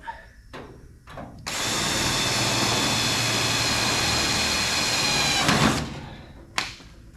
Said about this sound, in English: Let's go ahead and drill it.